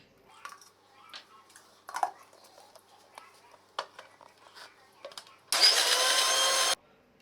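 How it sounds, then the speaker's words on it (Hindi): A kitchen mixer-grinder blending papaya with milk for a milkshake: scattered clicks and handling knocks, then a loud, steady motor whir for about a second near the end that stops abruptly. "दूध हम पहले थोड़ा सा डालेंगे और इसको अच्छे से ब्लेंड कर लेंगे"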